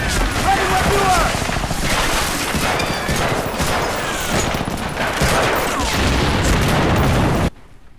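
Dense, continuous gunfire in the Medal of Honor Frontline video game's beach bunker assault, with overlapping rifle and machine-gun bursts and explosions forming a loud, sustained barrage before it cuts off abruptly near the end.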